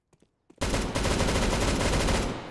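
Rapid automatic gunfire from a rifle in the Counter-Strike: Global Offensive video game, a few faint clicks and then a loud, dense, continuous burst of shots filling the rest of the moment.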